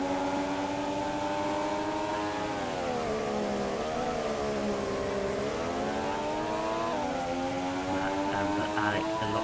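Formula One cars race at the 2026 Spanish Grand Prix, a sustained high engine whine rising and falling in pitch as the cars accelerate and brake through corners.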